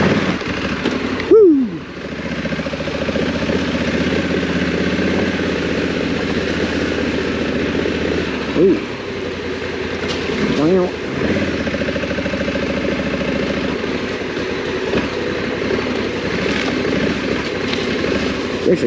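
A Honda Africa Twin motorcycle idles steadily and rumbles up close on a trail in Pisgah National Forest while it is eased forward in first gear, with a few brief throttle blips.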